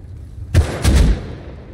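AK rifle fire in the console version of the survival game Rust, two loud, close booming shots about a third of a second apart, the second burst heavier and trailing into a short rumble.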